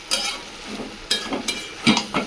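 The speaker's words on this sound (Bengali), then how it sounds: "এবার সবজিগুলো খুব ভালোভাবে কষিয়ে নিচ্ছি" Vegetables being stirred and sautéed in a pan for a vegetarian ghant alongside khichuri, with a few distinct scraping stirs and a soft sizzle in between.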